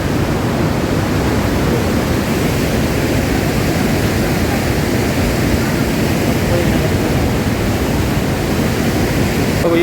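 A flooded river rushing beside a bridge during a monsoon flood, a loud continuous roar of churning water that stays steady and close throughout.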